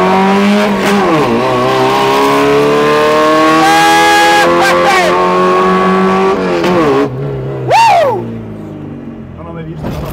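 A modified Suzuki Samurai engine of over 300 hp revs hard on launch control and holds high, with loud harmonic whine rising and falling, voices talking over it, then a final sharp rev.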